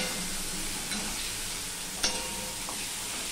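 Pieces of singhi fish fry lightly in oil with a soft, steady sizzle, broken by a couple of sharp clinks from the spatula as they are stirred.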